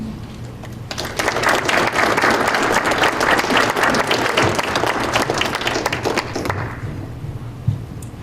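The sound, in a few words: audience applause welcoming a speaker on stage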